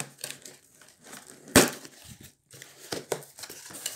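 Paper packaging crinkling and rustling as a parcel of Oriflame products is opened, close-up irregular crackles with one sharp loud tear-like burst in the middle.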